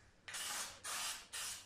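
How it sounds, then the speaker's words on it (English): Cheap black aerosol spray paint hissing from a can in three sustained bursts with brief pauses between, close and fairly loud. "Put some cheap black aerosol spray."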